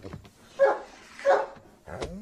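A dog gives two loud, close barks about a second apart, followed by a short vocal sound, indoors at night.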